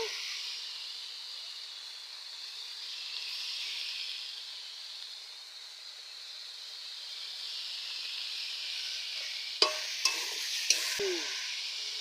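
Food frying in oil with salt being added, for a home-style village fish curry with banana stem and potatoes; a steady, fairly loud sizzle runs throughout, with a few sharp clinks and stirring scrapes near the end.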